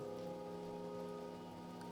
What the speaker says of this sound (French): je nous amène un peu à où Mia est sous la pluie